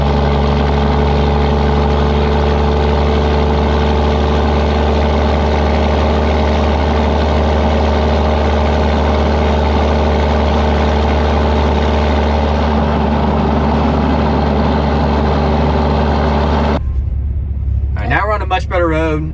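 A 2017 Cummins 6.7 diesel swapped into a second-generation truck drives along a road. Its deep, loud, steady rumble runs continuously, then cuts off abruptly near the end.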